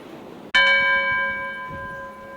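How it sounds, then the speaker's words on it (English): A bell struck once at a charity bell-ringing game rings out loud and close, its bright metallic tone sustaining and slowly fading over the following two seconds. "Aim well. ring the bell, all proceeds to charity"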